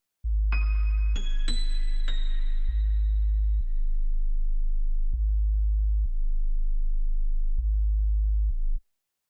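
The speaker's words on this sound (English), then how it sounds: "So I have the sub bass, which provides that low end," A deep, sustained sub-bass synth tone plays in evenly spaced held notes, with a few bright plucked tones at the start, no voices.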